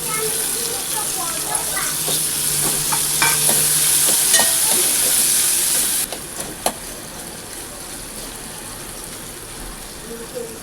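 Tomato with chili frying in a pan for masale bhat, a close, loud sizzle with scraping stir strokes that drops to a quieter, gentler simmer partway through.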